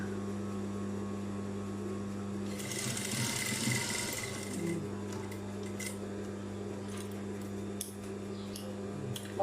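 A sewing machine stitches patchwork fabric scraps with a steady, continuous whir over an electrical hum, running the whole time with brief louder bursts near the middle.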